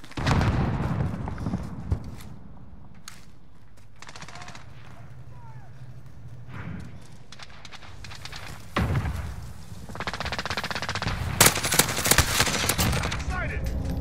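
Grau assault rifle fire in Call of Duty: Modern Warfare comes in loud automatic bursts, a short volley at the start and then a longer sustained stream near the end, with quieter game sounds between.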